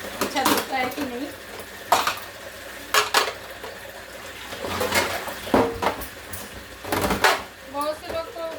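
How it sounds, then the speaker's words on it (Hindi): Dishes, pots and utensils clatter and clank in a home kitchen sink as they are washed, with someone talking over the sharp, intermittent knocks of metal and crockery. "बताइएगा मैं बर्तन कैसे धोती हूँ, अच्छा धोता है कि नहीं"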